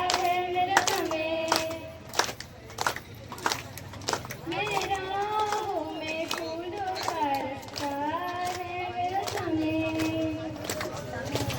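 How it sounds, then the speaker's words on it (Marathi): Hands clap in bursts at a women's haldi-kunku gathering held by a Mumbai temple service group at Mahadevkhar, the claps sharp and close, mixed with singing and talk. "टाळ्या वाजवा, टाळ्या वाजवा."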